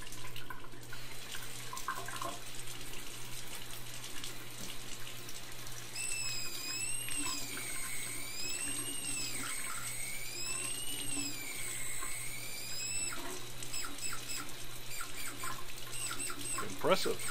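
Steady water running from a tap with a constant hiss, while a warbling electronic tone from a Drawdio musical pencil circuit rises and falls over the middle stretch.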